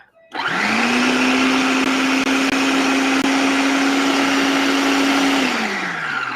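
A food processor grinds nuts toward a nut-butter texture, a loud, steady motor whir running continuously for several seconds before easing off at the end, with no speech.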